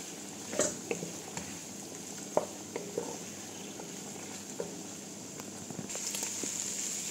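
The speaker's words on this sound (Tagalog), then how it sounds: "Igisa natin yung ating hipon." Shrimp sautéing in a pan, a quiet steady sizzle broken by a few sharp crackles and pops, with faint stirring toward the end.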